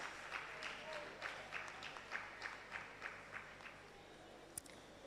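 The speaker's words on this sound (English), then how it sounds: "A round of applause for her, please" Faint applause for a faculty member at an International Women's Day celebration 2026, a modest crowd clapping in a rhythmic pattern that fades over a few seconds, heard from a distance.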